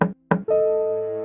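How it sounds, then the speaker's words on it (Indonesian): Two sharp knocks on a wooden house door, spaced apart and close, followed by a sustained tonal musical chime ringing out alone. "Ia mengetuk pintu rumah kelinci beberapa kali."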